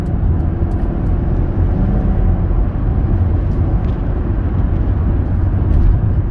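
2022 Mercedes-Benz AMG car accelerating onto a highway, a loud, steady engine roar mixed with road and wind noise from inside the cabin, holding for about six seconds; no talking.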